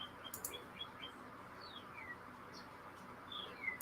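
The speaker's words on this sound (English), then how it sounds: "So these are familiar birds," Birds chirping and tweeting in a backyard, short bright calls scattered over a quiet, hissy background, some a bit distant.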